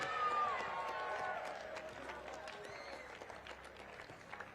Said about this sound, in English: Let's give one more big round of applause for both teams.